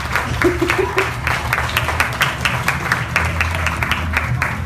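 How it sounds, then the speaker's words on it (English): Audience applause at the ComFest stage during an abortion speakout panel, steady clapping throughout with brief voices and cheers mixed in. "one more round of applause"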